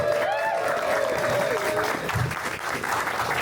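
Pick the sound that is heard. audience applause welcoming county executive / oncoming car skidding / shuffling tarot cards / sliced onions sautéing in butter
audience applause welcoming county executive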